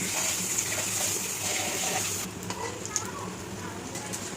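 Vadas (fritters) frying in a pan, a steady close sizzle with occasional stirring and scraping throughout, with no voice over it.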